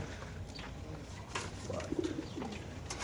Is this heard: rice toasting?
no